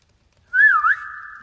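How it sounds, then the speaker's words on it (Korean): A single whistled phrase on a guide vocal recording for a song, clear and close, rising and falling in a short wavering melody and then holding a steady tone, with no talking. "가이드를 보면은 휘파람 소리들이 여기 있네"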